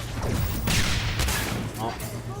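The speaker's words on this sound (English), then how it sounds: "That's a grenade at my feet, huh?" In a video game, a grenade bursts at the player's feet with a loud, close blast and rumbling low-end boom, amid other game noise, while someone talks over it.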